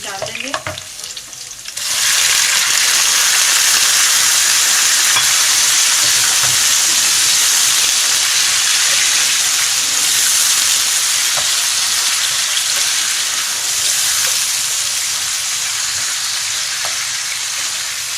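Pieces of beef hit hot oil in a pot, where ginger and garlic are being browned for a stew, then keep up a loud, steady sizzle and hiss that fades slightly over time. No one speaks.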